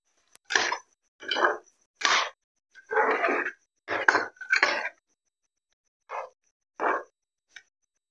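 Vegetable Manchurian sauce stirred in a pan, with a series of separate scraping and clinking strokes of spoon against metal, about ten short bursts with quiet gaps between them, close and fairly loud.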